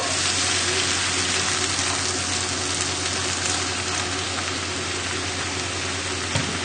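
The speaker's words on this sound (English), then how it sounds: "we can add in roughly half of the stock" Stock poured into a pan of pumpkin risotto, a steady broad hiss of liquid meeting hot rice that holds evenly throughout, close and loud with no talk.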